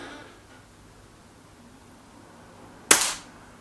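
A single sharp, close crack from a Weihrauch HW100 KT air rifle rings out near the end, after quiet background hiss, with a short decaying tail.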